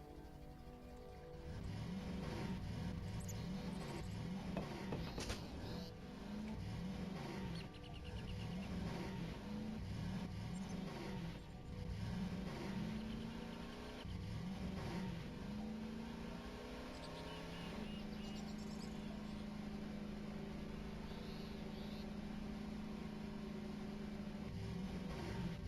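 A vehicle engine in the game Voices of the Void drones steadily, with rhythmic pulsing surges through the first half that settle into an even, low idle.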